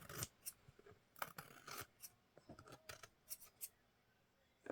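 Scissors trim the top of a junk mail envelope in quick, close snips, a dozen or so crisp cuts in irregular bursts, quiet and with no one speaking.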